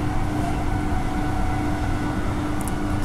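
An A-Series electric train running on the line to Yanchep in daylight, a loud, steady rumble of motors and wheels with a constant tonal whine, heard close throughout with a brief high squeal near the end.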